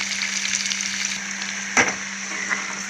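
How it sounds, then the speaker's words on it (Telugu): Food sizzles steadily in a hot pan with a constant hiss, joined by a brief louder clatter near the middle and a faint knock later, with no one talking. "ఫ్రై అవుతుంది"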